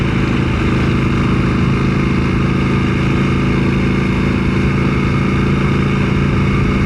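A KTM 890 SMT motorcycle with a new NiceCNC gear lever rides along. Its engine holds a loud, steady drone throughout, and no distinct gear change stands out.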